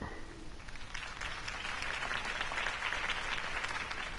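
A crowd applauds a campaign speech by Harvey Dent; loud, dense clapping from many hands, continuous and rising slightly in intensity, with no talking over it.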